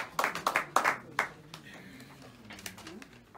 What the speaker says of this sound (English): An applause, ladies and gentlemen.